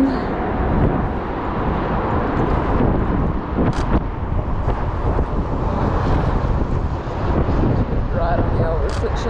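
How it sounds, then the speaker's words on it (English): Strong storm wind roars steadily against a New York City apartment building, a loud continuous broadband rush with gusty swells throughout, while a person speaks faintly beneath it. "The wind."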